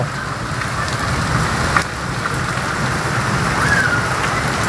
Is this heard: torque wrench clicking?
no